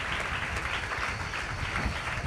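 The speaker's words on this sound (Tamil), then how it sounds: "அவங்க எல்லாருக்கும் சேர்த்து பலத்த கைத்தட்டல் நம்ம கொடுக்க போகிறோம்" An audience at a Tamil church service claps strongly and steadily, a dense, continuous roll of applause with no break.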